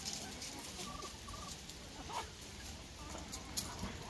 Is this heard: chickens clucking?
yes